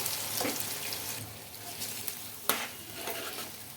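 Hot spice tempering tipped into coconut chutney crackles and sizzles softly, with a sharp hiss and clink near the middle, the sound close but fairly quiet with no talk.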